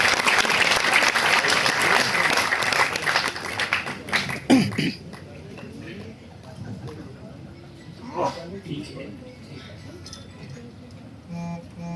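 Applause from the audience at a Bhopal railway division award ceremony welcoming an invited guest: dense clapping that breaks off after about four seconds, followed by quieter room noise with scattered knocks and a brief voice.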